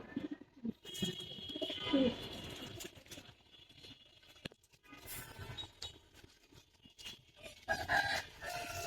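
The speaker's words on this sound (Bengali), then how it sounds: "আট পর মাশাল্লাহ বড় মাথা কবুতর" Silver military Gribaz pigeons coo softly in short, intermittent bursts, with other bird calls mixed in against a quiet background.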